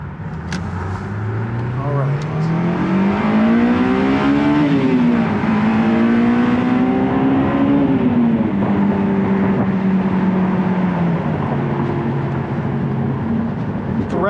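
A high-revving 2001 Honda S2000 engine climbs steeply in pitch toward 9,000 rpm, holds near the top, then drops and settles into a steady drone, loud and close.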